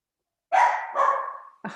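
Several dogs bark at a house, three loud close barks in quick succession, with the first two drawn out and the last one short and sharp.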